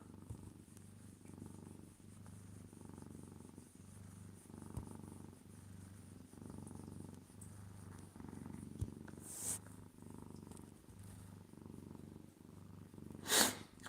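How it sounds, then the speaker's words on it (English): A male house cat with a mild upper respiratory infection purrs softly and steadily up close, a low rhythmic rumble with slightly raspy breaths, and a brief sharp snort or sneeze near the end. "Now I'm gonna listen to him purr here."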